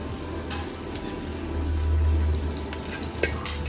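Garlic, ginger and fennel seeds fry in hot oil, giving a steady close sizzle with a low hum underneath and a few brief crackles and clinks.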